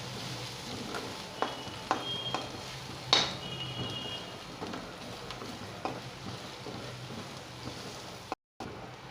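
Chicken curry with salt and turmeric stirred in a frying pan, a low steady sizzle under scattered sharp scrapes and clinks of a utensil against the pan.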